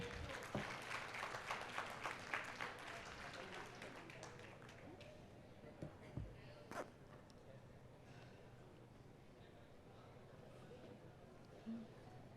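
Audience applause for panelists at a question-and-answer session, with sharper claps standing out early before the clapping thins into scattered hand claps and room noise.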